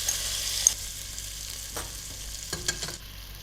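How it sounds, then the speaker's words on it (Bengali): Marinated meat hitting a hot pan for an achari-style curry, giving a quiet steady sizzle with a few clinks and scrapes of stirring near the end. "এবার পুরো মাংসটা আমরা ঢেলে দিচ্ছি এখানে।"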